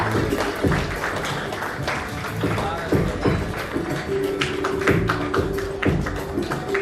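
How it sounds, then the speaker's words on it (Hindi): Audience applause welcoming a guest at an award ceremony in a Patna hotel: steady, fairly dense clapping from a gathered crowd, with some sharper taps standing out and faint voices mixed in. "जोरदार तालियों से स्वागत करें सर का।"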